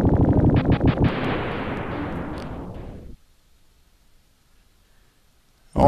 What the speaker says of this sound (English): Oh man, big explosion.